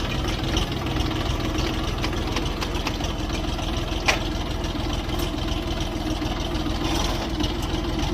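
A Bulat 244 four-wheel-drive mini tractor with a three-cylinder TM-385 diesel engine idles close by, a steady low rumble with a faint clattering knock and one brief sharp click, no voices.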